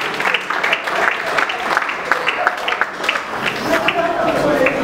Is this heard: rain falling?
no